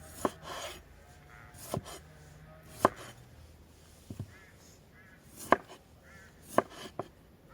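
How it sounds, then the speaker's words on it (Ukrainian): A knife chops potatoes on a cutting board in sparse, uneven strokes, about seven sharp hits spread across a quiet kitchen. "нарізаю картоплю."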